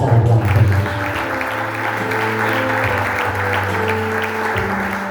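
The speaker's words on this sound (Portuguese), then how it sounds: "Uma salva de palmas." Church congregation clapping together in a sustained round of applause over steady keyboard music, loud and continuous from start to end.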